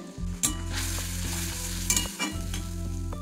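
Spiced yogurt masala for palak paneer being stirred and sautéed in oil in a pan over low gas, a steady loud sizzle with periodic scraping strokes of the spoon and a low background hum, no voices.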